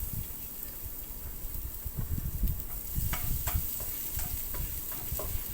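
Garlic sizzling in a hot pan as pasta gorgonzola is started, a steady frying hiss with soft stirring clicks and scrapes running throughout.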